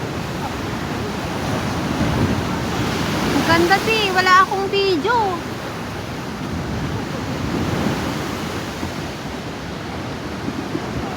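Ocean surf washes steadily onto the shore at Cijin at sunset, a continuous broadband rush with gentle swells, while people chat nearby over it.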